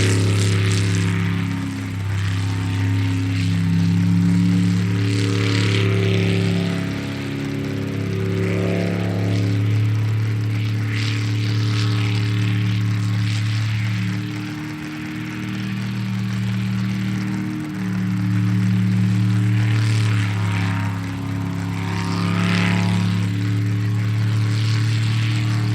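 A 400-class racing boat roars through a STIHL Pro Racing sprint qualifying run, with Matt Denson driving and his father navigating; a loud, steady harmonic engine drone dominates throughout, rising and falling in pitch as it works, with no voices.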